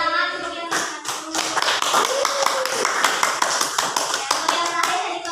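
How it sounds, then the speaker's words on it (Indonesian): A class claps in applause, a steady, dense patter of many hands, with a voice speaking briefly over it. "Tepuk tangan untuk yang satu."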